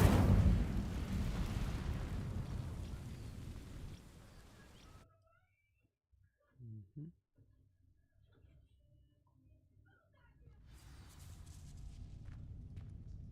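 Incendio fire spell from a video game setting dry vines alight: a loud, dense roaring burst lasting about five seconds, then near silence with a few faint knocks before low ambient noise returns.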